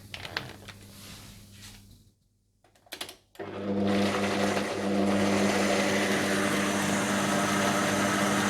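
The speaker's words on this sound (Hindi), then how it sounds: "इसके बाद आप चॉपर में या ब्लेंडर में दही और ब्राउन प्याज डालकर पीस लें।" A blender motor whirs loudly and steadily as it grinds yogurt and browned onions for Kashmiri gushtaba, with a short pause and clatter before it restarts and runs at full power.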